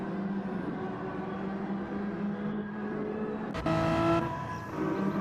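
Renault Megane Trophy race cars running on the Autopolis circuit, a steady engine drone that swells sharply as a car passes close, then eases back.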